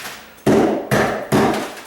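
A tool swung like a hammer strikes a concrete tile sub base on a countertop. Three loud, heavy blows land close by at an uneven pace, each followed by a dull ringing decay, with no talk.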